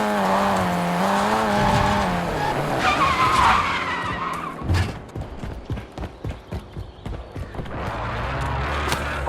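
Vehicle driven in Call of Duty Warzone, engine droning with tires skidding and squealing, followed by a run of rapid clattering impacts as it hits objects along the way, loud and close, no talk.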